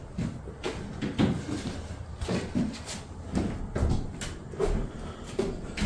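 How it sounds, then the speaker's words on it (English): A door in an abandoned Kentucky mansion is shut amid a series of hollow wooden knocks and clunks, several scattered thuds over a few seconds in a quiet interior. "shut the door"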